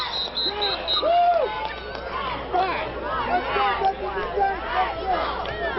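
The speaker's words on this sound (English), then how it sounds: "you can hear this crowd back into it now" A high school football crowd at a Fort Bragg Timberwolves versus Willits Wolverines game roars and yells at kickoff in a sustained, dense mass of voices, with a whistle heard near the start.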